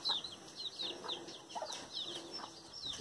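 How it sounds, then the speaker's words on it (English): Chicks peep in rapid, high, repeated chirps around a mother hen on a farm, a busy, close chorus with faint soft clucks beneath and no talking. "Look at these chicks there. And their mother is there."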